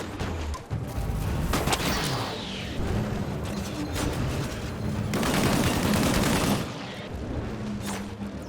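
Sci-fi combat in the Disintegration video game on PS4, with bursts of rapid gunfire and crashing impacts rolling continuously for several seconds, loud and dense with no talk.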